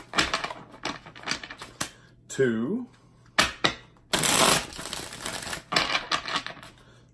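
Tarot cards shuffled in several quick riffling bursts close to the mic, with a louder sustained flutter of cards in the middle and a voice counting between them.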